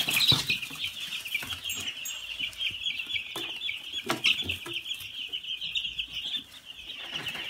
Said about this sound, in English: we feed the chicks and take you out and see what's up with that broody hen